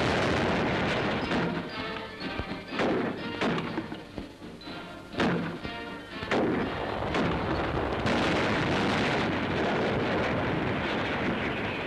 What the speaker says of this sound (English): Allied guns pound the inner walls of the Reich.